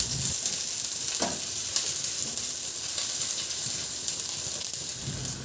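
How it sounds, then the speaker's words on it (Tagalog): Garlic sautéing in hot cooking oil for a Filipino ginisang ampalaya, giving a steady close sizzle and hiss with a few brief stirring scrapes throughout. "Magpainit na rin ako ng mantika at igisa ko na yung bawang."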